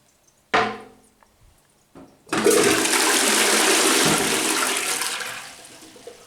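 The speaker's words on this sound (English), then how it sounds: "It's actually a tankless commode" A sharp thunk of the button, then a tankless low-flow dual-flush toilet flushes in a hotel suite bathroom in Rome, a loud rushing surge of water lasting several seconds before tapering off.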